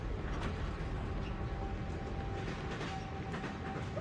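A passenger train runs on rails in a TV drama scene, a steady rolling rumble with faint clickety-clack and a brief high tonal squeal near the end, no speech.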